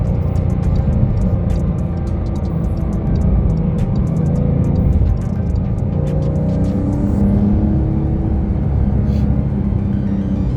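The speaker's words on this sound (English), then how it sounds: "it'll open some valves in the exhaust to make the exhaust sound racier" A 2024 Porsche 911 Carrera T with sport exhaust valves open drones steadily while driving in traffic, a loud, close engine rumble with slight swells in revs and no talking.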